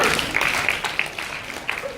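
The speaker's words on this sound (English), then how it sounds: "Give yourself a clap." An audience at a character strength workshop claps briefly, a soft diffuse patter of many hands at moderate distance with no voices.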